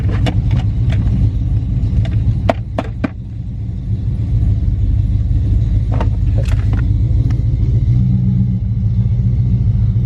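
A Ram truck with a swapped-in 8-speed transmission drives along, heard from inside as a loud, steady engine and road rumble with occasional sharp clicks and rattles, and no talking.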